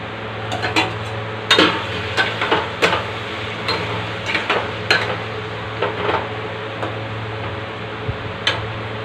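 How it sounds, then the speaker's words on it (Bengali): Spices are ground with water on a grinding stone, making irregular gritty scrapes and knocks close by over a low steady hum, with no talking. "এদিকে মশলা আমি বেটে নেব জল দিয়ে"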